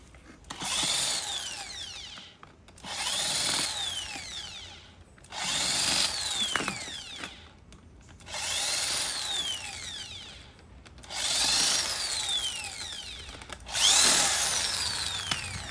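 Powered screwdriver backing out the terminal screw on a copper contact of a 10 A circuit breaker, five rising whirring bursts separated by short pauses, close and loud.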